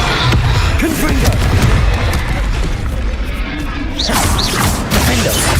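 Confringo fire-spell blasts in the Hogwarts Legacy wizard combat game, loud booming crashes and whooshing magical effects rolling continuously, with a voice calling out over the fight.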